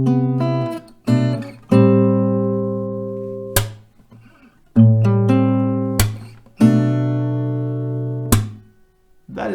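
One round of a song on acoustic guitar: strummed chords ring out and decay, broken by sharp percussive slaps on the strings, played close and alone without any talking.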